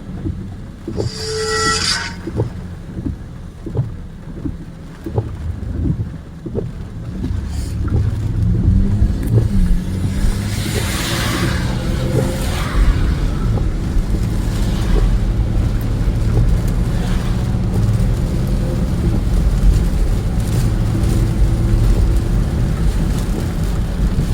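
A loud car without a muffler drives by, its rough engine roar building and staying heavy for several seconds, close and unmuffled, after a quieter stretch of clicks and light rumble.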